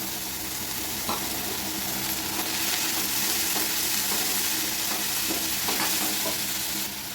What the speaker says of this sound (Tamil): இதோட முருங்கைக்கீரை போட்டு வதக்கிக்கலாம்